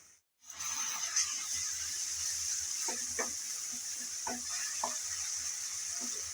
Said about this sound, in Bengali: আদা রসুন বাটা দিয়ে আবারও নেড়ে চেড়ে হালকা করে ভেজে নিচ্ছি যাতে কাঁচা গন্ধটা চলে যায়